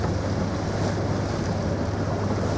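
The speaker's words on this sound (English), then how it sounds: "you can see the waves breaking" Waves break and wash around an exposed wreck off the Bay of Biscay coast in a good swell, a steady loud roar of surf mixed with wind buffeting the microphone, with no voices.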